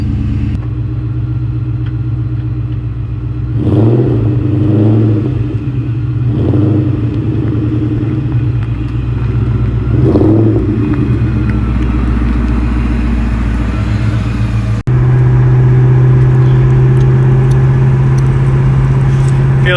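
A 2004 Cobra cruises along, its steady engine drone holding low and even with a few swells of throttle, then a firmer, fuller hum after a brief shift in the last few seconds; faint talk sits beneath.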